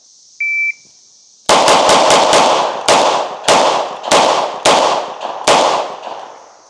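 A Tisas B9R double-stack 1911 pistol fires a string of about nine loud, sharp shots, quick at first then spaced out, each with a short ringing tail, preceded by a brief electronic beep.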